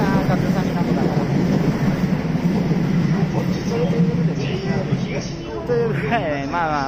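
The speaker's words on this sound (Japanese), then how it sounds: "電車発車してきちゃいましたけど" Commuter train on the Uchibō Line pulling out of a platform at Soga Station during rush hour, a loud continuous rumble and hiss filling the clip, with a voice speaking over it near the end.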